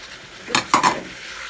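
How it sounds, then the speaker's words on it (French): Meat and two onions frying in olive oil with garlic in a pan, a couple of quick close scraping stir strokes over a low sizzle, short and fairly loud. "اللحم مع les oignons. نخليهم يتقلاو."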